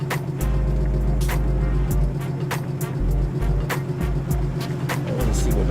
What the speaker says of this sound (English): I like to sit in the car and let the car run for about 30 minutes with the AC on blast.